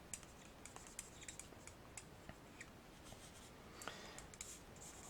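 A double-sided pen shades a stamped paper scene, adding shadows at the base of a chapel and under trees: soft, close scratchy strokes in quick irregular bursts, quiet and steady with no talking.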